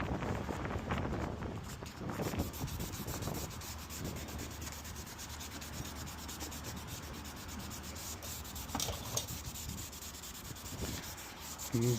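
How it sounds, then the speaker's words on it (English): Dry sanding of plastic on a 2017 Infiniti QX70 with 3M gold sandpaper gives a continuous close, raspy scrubbing that runs steadily for the whole stretch, with no talk. "you can't really beat this 3M gold for dry sanding"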